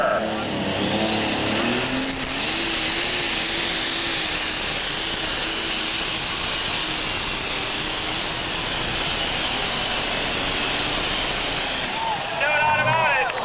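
A super stock pulling tractor roars at full throttle during a pull at an NTPA event in Saline, Michigan, a loud sustained engine howl with a rising whine that holds for most of the run, with a commentator talking over it.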